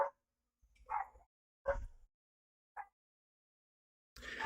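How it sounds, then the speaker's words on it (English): A dog barks in several short bursts, probably at a passing car or someone walking in front of the house. Some bursts are sharp single yaps and others come as doubled barks, with quiet gaps between them, loud and fairly close. "Bark."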